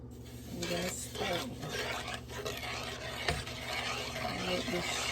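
A spoon stirs sugar into milk in a pan to make sweetened condensed milk, with repeated soft scraping strokes and a light bubbling sizzle close by and at a low level, plus faint background hum.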